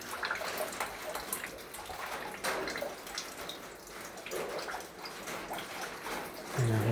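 Rain falling at a building construction site: a steady, soft patter with drips and splashing water, plus a thumping knock at the very end.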